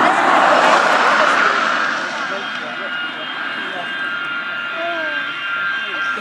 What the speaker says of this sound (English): Oh, the engine! Oh god, it's ready for his power!